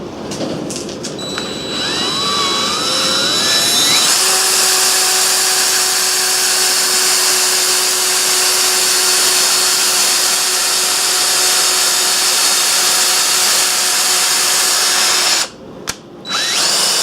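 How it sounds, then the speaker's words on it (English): A handheld power drill spins up and runs at a steady loud whine to turn a part of a homemade radial drill, holding for over ten seconds before briefly stopping and restarting. "I'll just use the drill because I don't have a handle made yet."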